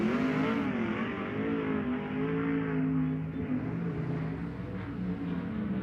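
A sprint car at a High Limit Racing qualifying session at Central Arizona Raceway roars loudly and continuously, its engine pitch rising and falling as it laps, with no voices over it.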